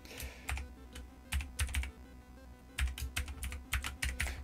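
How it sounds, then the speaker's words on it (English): Typing on a computer keyboard during a coding session, bursts of close, crisp key clicks in uneven runs separated by short pauses, heard alone without talk. "typing the wrong window."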